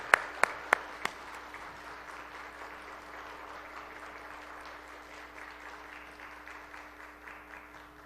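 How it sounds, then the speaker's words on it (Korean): A church congregation applauds during a Sunday service held to elect officers. A few sharp, loud claps ring out first, then steady, moderately faint clapping from many hands carries on to the end. "성공 박수 보내주시기 바랍니다."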